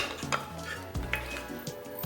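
Sweet potatoes scrape and clatter against a cast iron skillet, with soft stirring knocks over a faint background sizzle, close by.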